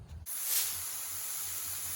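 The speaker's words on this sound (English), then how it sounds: "Hear that sizzle?" Steady, bright hissing sizzle starts suddenly and continues evenly as scallops sear in a hot pan up close.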